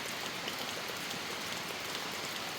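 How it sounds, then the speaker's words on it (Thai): Steady rain falls and patters on surfaces outdoors, a dense continuous hiss close by. "เวลาฝนตกแบบนี้"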